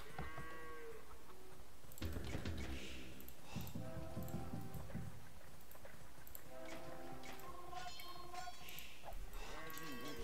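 Goat or sheep livestock bleating in the Age of Empires II real-time strategy game, with several wavering, moaning animal calls repeating over busy in-game battle and unit sounds throughout.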